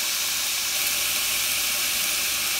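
Filipino garlic fried rice with soy sauce sizzles steadily in a hot pan, a loud, bright, even hiss that holds without pause.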